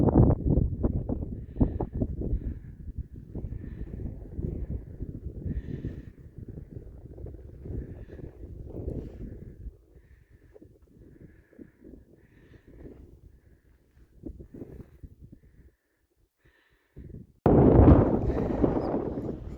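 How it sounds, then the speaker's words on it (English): Wind gusts buffet the microphone on a mountain pass hike, a low rumbling roar that comes and goes, easing into quieter moments before a loud burst of gusting near the end. "Sorry about the wind."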